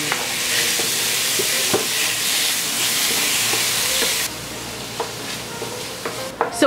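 Chicken pieces sautéing with garlic in a pan for a Filipino white chicken dish, a loud steady sizzle with occasional stirring clinks and scrapes, quieting slightly near the end, no talking.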